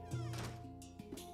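A cat meows in the video game Luigi's Mansion 3, one drawn-out tonal meow followed by a shorter second call, clear and close over a faint game backdrop.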